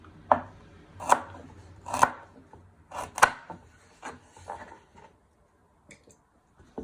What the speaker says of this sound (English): And you just cut it into small medium pieces.